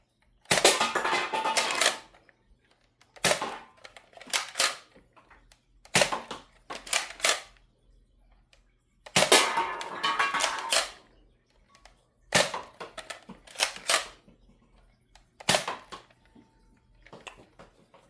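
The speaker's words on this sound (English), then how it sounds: "Next is the Strong Arm. Again, Nitro Shot Darts. Let us commence." Strong Arm toy revolver blaster firing Nitro Shot Darts: six separate bursts of sharp plastic clacks and snaps, each followed by a brief rattle, spaced a few seconds apart in a quiet room.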